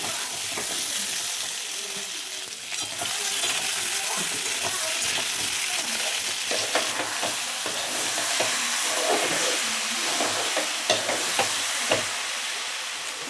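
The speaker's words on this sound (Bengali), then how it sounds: "আর দেবো ওলকপি, চিচিরা কাঁচা লঙ্কা দিয়ে এটাকে একটু ভালো করে ভেজে নেব।" Sliced potatoes, kohlrabi and green chillies fry in hot oil, a continuous close sizzle broken by repeated scraping clicks of a spoon stirring in the pan.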